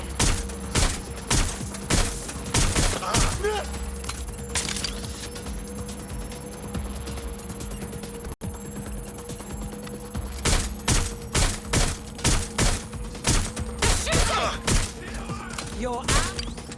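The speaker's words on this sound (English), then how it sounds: "I'm taking fire." Sustained bursts of gunfire in the video game Watch Dogs: Legion, with rapid volleys of shots and impacts repeating loudly through most of the stretch, briefly easing in the middle before resuming.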